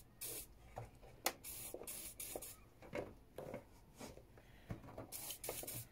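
Several short hissing bursts of aerosol penetrating oil sprayed onto a rusted bolt on a Honda CBR750 Hurricane motorcycle, in quick succession, with small clicks and handling noises between them, close by.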